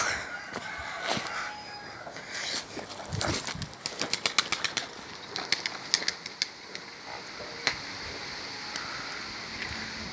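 Tumbler pigeon wings clapping and fluttering in bursts, rapid sharp flaps clustering mid-clip, with faint outdoor background and no talking.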